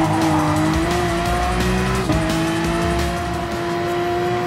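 Race car engine in the Gran Turismo Sport racing game on PS4, a loud, steady high-revving drone with a brief gear-shift dip partway through and a faint tire squeal, with no talking.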